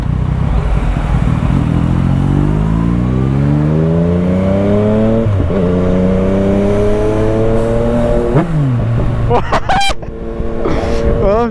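A Yamaha MT-09 motorcycle engine revs loud and close, its pitch climbing in repeated rising sweeps with brief drops as the throttle is blipped, ending in a few sharp quick revs; someone talks over it.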